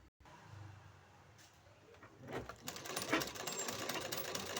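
Sewing machine stitching along the edge of blouse fabric, a faint start building into quick rattling stitches over a few seconds, fairly close with low room noise and no talking.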